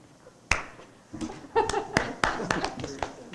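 A few people at a school board meeting give a sparse round of clapping for JT, with scattered individual claps and some light laughter and voices in the room.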